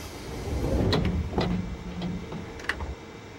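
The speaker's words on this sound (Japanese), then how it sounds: "2番線ドアが閉まります。" Doors of a JR 205 series train on the Yamanote Line sliding shut at a platform, with several short clunks and thumps over a steady low rumble of station noise.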